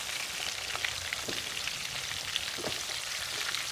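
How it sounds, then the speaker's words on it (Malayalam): Chicken pieces frying in oil on a medium flame for Malabar chicken biryani give a steady, hissing sizzle with scattered soft pops and crackles, close and continuous. "മീഡിയം ഫ്ലെയിമിൽ വെച്ച് ഫ്രൈ ചെയ്തെടുത്താൽ മതി."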